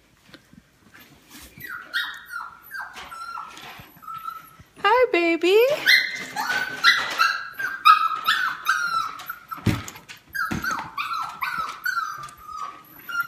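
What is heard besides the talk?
dog barking behind door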